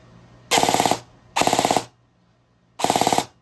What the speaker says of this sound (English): That's like 4 or 5 round burst.